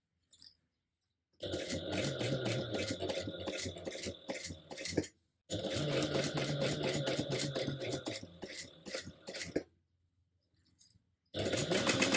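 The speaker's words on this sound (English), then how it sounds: "we're going to go ahead and stitch this down at a 1/4 of an inch seam allowance" A sewing machine stitches bias binding onto mesh in two long, steady bursts of rapid mechanical whirring and clatter, close up, with short silent pauses between and another burst starting at the end.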